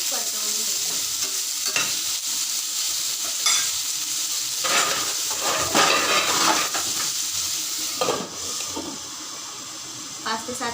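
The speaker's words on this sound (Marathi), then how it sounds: "5 ते 7 मिनिटं याला परतवून घेऊया व्यवस्थित।" Bitter gourd (karela) sautéing in a pan for a Maharashtrian home-style bhaji: a steady close sizzle and hiss with repeated scraping stirs of a spatula, speech faintly underneath.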